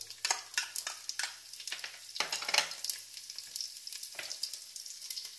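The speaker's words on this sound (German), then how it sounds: "Jetzt gebe ich die Senfkörner, komplett Senfkörner und Kreuzkümmel." Whole mustard seeds and cumin sizzle in hot oil for an Indian turkey breast curry, giving a steady crackling fry with a few louder spitting bursts, close and alone with no talk.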